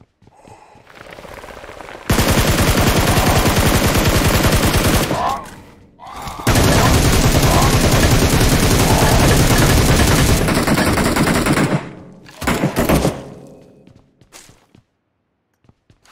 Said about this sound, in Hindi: गोली चला ही दिए हो तो हम भी चला ही देते हैं।